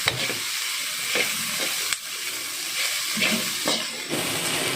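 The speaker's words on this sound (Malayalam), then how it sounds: "നന്നായിട്ട് മിക്സ് ചെയ്യാം" A chicken roll masala filling being stirred in a frying pan, with steady sizzling and repeated scraping strokes of a spoon against the pan, close and continuous.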